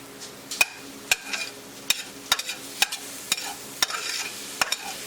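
Scrambled eggs cook in chive butter in a hot pan, a soft sizzle under a run of sharp spatula scrapes and taps against the pan, about eight or nine distinct strikes at an uneven rhythm, close by.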